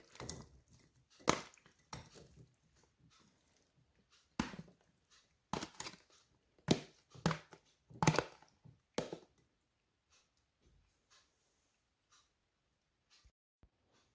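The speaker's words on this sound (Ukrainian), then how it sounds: "Всі горішки я подрівнюю і трішки підсушую." Nuts being chopped with a knife on a board while preparing a cheese stollen, a short run of sharp, close taps in irregular bursts that thin out into a few scattered knocks and then quiet.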